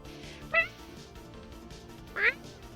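A person imitates a cat with two short meows, spaced well apart, the second slightly cracked, over a quiet background.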